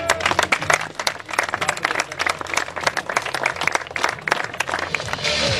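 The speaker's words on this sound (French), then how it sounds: "Allez, on applaudit très fort quand même." Audience applause at a Jacques Secretin event in Lyon, 2013: dense, continuous clapping from a sizeable crowd, loud and sustained throughout with a slight swell near the end.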